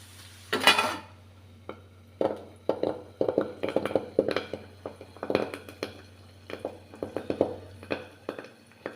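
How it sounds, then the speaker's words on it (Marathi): Curry leaves hit hot tempering oil with a short burst of hissing, then a metal plate is set over the pan, followed by a run of irregular light metallic clinks and taps. "कडीलिंब टाकून ताट झाकून घ्यायचं आहे त्यामुळे फोडणी उडत नाही"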